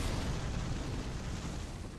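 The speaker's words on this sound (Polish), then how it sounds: "Wiedziałem, że to wybuchnie." A trap blows up in Bloodborne: The Old Hunters, a dense, roaring blast that holds for about two seconds as a thick, sustained rumble with no voices over it.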